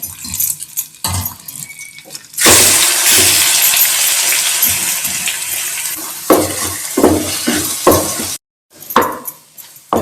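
Pumpkin sautéing in ghee for kasi halwa starts with a burst of loud, broadband sizzle when the vegetable hits the hot pan. It fades steadily, broken by scraping and clatter from stirring, then a brief silence and more scattered clinks.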